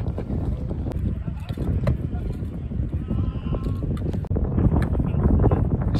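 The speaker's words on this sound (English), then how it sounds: "It's quite a windy day here today actually" Wind gusts across an outdoor football ground, buffeting the microphone with a steady, loud rumble that grows stronger near the end.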